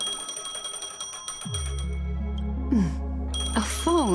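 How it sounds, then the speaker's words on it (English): A phone rings in a video game, a bright repeating electronic trill over a sustained musical drone, fairly loud and close. "A phone."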